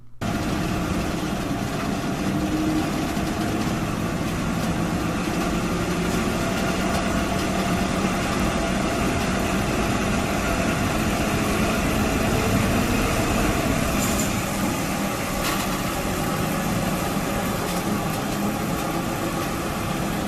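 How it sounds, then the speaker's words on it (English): A giant Soviet-built walking dragline excavator runs its engine in a steady, loud, low rumbling drone that holds unbroken from start to finish, with no voices. "This is a giant dragline excavator built by the Soviet Union."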